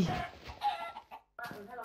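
Chicken clucking in the Minecraft video game, a few short close clucks in quick succession, mixed with a faint voice and breaking off briefly before resuming.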